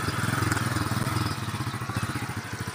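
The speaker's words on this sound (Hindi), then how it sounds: "वाह जी वाह, चल भाई नवी मोटरसाइकिल।" A new motorcycle engine runs steadily close by, its rapid, even pulsing loud and continuous throughout with no talk over it.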